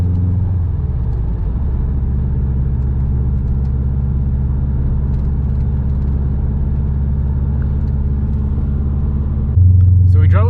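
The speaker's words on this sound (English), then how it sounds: "So I'm just gonna go drive it real quick" A Subaru WRX STI drives on the road, its engine a loud, steady low rumble heard from inside the car, with a brief surge in revs near the end.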